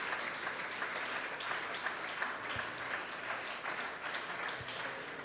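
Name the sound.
applause for Jesus from the congregation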